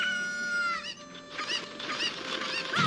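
Clucking chickens in a game soundscape, with a repeated electronic chime and layered bright tones over a steady background.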